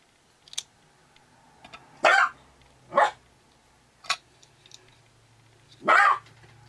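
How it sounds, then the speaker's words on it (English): Several dogs bark in short separate bursts indoors, loud and fairly near, about four or five barks spread out with quiet gaps between them and no talking. "they're quiet until I start recording, and then once I start recording they start barking"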